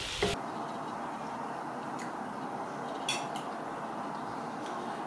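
Yogurt being stirred into fish biryani masala in a cooking pot gives a quiet, steady background with a few scattered light metallic clinks and taps of a spoon against the pot, without any speech.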